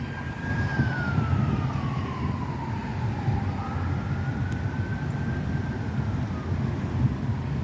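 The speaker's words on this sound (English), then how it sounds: "Then you got an ambulance in the back of that pack over there" An ambulance siren wails in traffic on a street corner in Medford, its tone sweeping down and back up at moderate distance over a steady rumble of passing cars.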